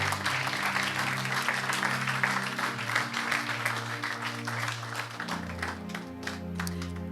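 A church congregation applauds and cheers in praise during a worship service, with dense sustained clapping and crowd noise throughout, held over a low musical drone.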